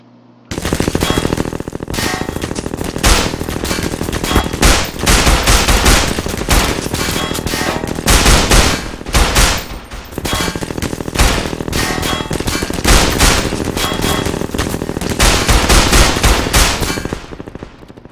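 Loud, sustained automatic gunfire in the video game Estranged, rapid bursts rattling almost continuously with only brief pauses between volleys, no talking.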